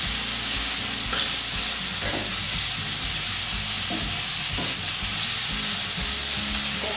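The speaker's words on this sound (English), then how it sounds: "Just a teaspoon to begin with. Mix that in, see how it looks." Pesto being stirred into a hot pan for prawn and chorizo linguine, with a loud, steady sizzle and hiss and occasional soft scrapes of a utensil, close up.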